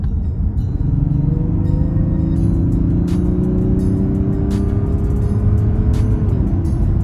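A Mazda CX-60 3.3-litre diesel SUV engine revs steadily upward in sport mode with a rising drone and rumble, heard from inside the vehicle, loud and continuous with a few faint clicks.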